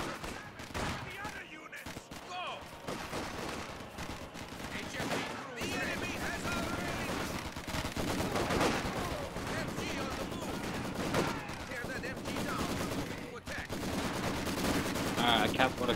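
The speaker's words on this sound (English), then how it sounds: "Machine gun ready!" In a Company of Heroes 2 battle, machine guns chatter in repeated bursts amid dense combat noise. Explosions and distant gunfire run through the mix, and voices are heard at times over the sustained din.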